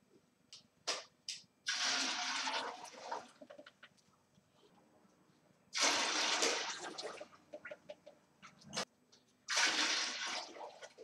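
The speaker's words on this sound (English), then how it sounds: "I'll top that up with 7 litres of cold water" Cold water gushes from a tap into a brewing pot for home brewing, in three separate pours of a few seconds each, loud and close, with quiet handling clatter in between.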